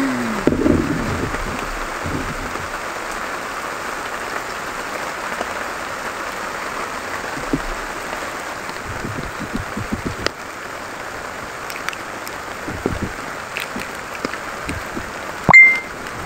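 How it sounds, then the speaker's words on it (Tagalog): Steady rain falls outdoors in a continuous soft hiss, a dense even wash of drops with a few faint knocks and one short louder bump near the end. "hindi naman talaga tumitigil yung ulan"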